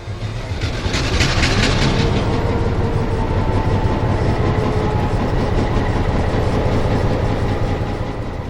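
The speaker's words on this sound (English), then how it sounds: "Today's motive power is former Union Pacific MP15AC, number 1416, which has been leased to West Michigan by Great Lakes Locomotive" A former Union Pacific MP15AC diesel locomotive rumbles along a West Michigan shortline railroad, its low steady engine drone and wheel noise loud and continuous throughout, with no talking.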